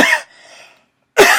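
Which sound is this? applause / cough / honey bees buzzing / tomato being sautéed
cough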